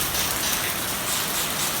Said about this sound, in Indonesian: Dan ini alhamdulillahnya sudah terjadi air turun, air hujan teman-teman.